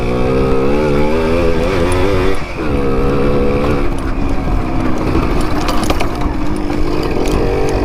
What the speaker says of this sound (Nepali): लुक एट द आवाज. 100cc 2 stroke.